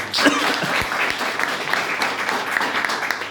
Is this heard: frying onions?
no